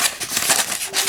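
Scissors cut a small piece from a roll of 150 grit sandpaper, a few quick close rasping snips in a brief burst.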